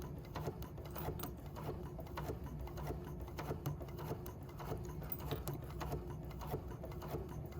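A sewing machine stitches slowly through curved quilt block piecing for a New York Beauty sampler block, a faint, steady patter of rapid needle clicks.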